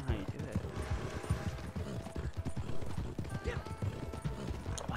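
Horse hooves clip-clop in rapid, uneven beats in the Red Dead Redemption video game, close and fairly loud, over a mechanical rattle with faint background chatter.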